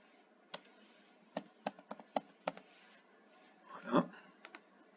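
Computer keyboard typing, a sparse run of sharp individual key clicks with irregular gaps and a brief rustling burst near the end, close and fairly quiet.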